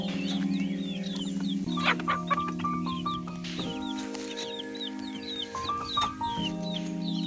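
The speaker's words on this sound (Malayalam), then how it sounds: "ഞാൻ കുറേ നേരം ഇപ്പോൾ കോഴിക്കുട്ടികളെ ഒച്ചപ്പാട് ഇങ്ങനെ കേൾക്കുന്നുണ്ട്." Hens cluck steadily while chicks peep in high, rapid chirps, the chorus continuous and close with a few louder squawks.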